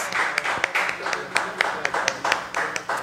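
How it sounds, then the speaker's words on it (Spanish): Scattered audience clapping at a virtual fair event, individual sharp claps sounding in a loose irregular rhythm over a low background murmur. "nuevamente de todos el aplauso, por favor"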